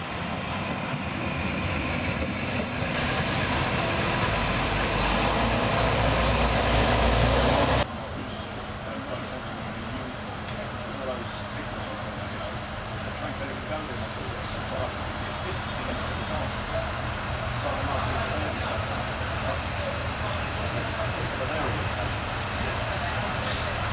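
An ADL diesel railcar on Sicily's Circumetnea line idles at Borgo station with a steady low engine rumble, louder at first and then settling to a quieter, even drone, accompanied by background noise.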